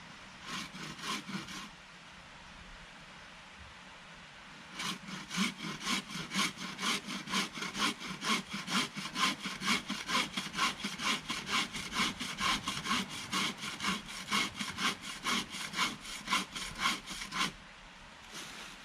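A bushcraft hand saw rasps through dead wood on the back cut of a felled tree: a few strokes, a short pause, then a long run of quick, even back-and-forth strokes close by.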